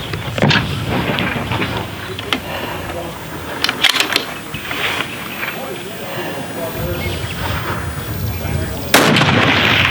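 Rifle shots ring out at an outdoor NRL Hunter precision rifle match, sharp cracks at roughly one, two, four and nine seconds, the last close and loud, while people talk and move around between shots.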